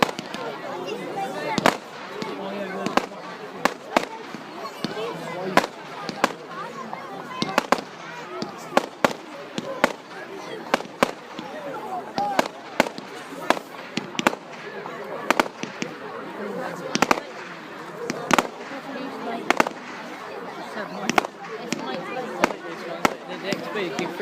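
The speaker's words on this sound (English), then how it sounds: "we saw the firework" Bonfire night fireworks crack and pop repeatedly at irregular intervals, sharp bangs near and far, with voices chattering in between.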